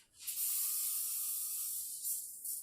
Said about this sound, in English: when you spray these trays, because it's mesh, it's going to come through. I would recommend do it over the sink